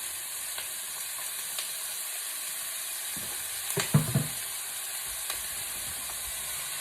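Onions sizzling in a couple teaspoons of olive oil for pollo guisado, a steady soft hiss and crackle with a brief burst of stirring and clatter midway, close and alone without talk.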